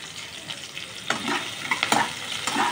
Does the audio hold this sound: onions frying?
yes